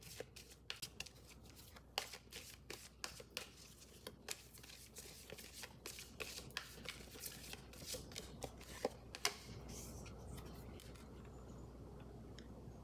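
Tarot cards are shuffled up close, giving a rapid run of crisp riffling flicks and taps that thicken into a denser, steady ruffle toward the end.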